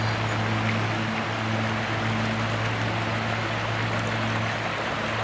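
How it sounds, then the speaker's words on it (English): Steady broadband rushing of water as King's Creek at Brevard College flows continuously, with a low constant hum underneath and no voices. "Beautiful little creek"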